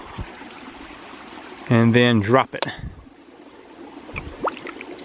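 Water flows steadily through the pipe of a ram pump as a faint continuous rushing beneath a man's nearby speech, with a few small knocks and splashes.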